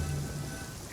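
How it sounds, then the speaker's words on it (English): Steady rain falling in the Genshin Impact video game, a soft continuous patter with no voices over its one-second span. "It's raining again?"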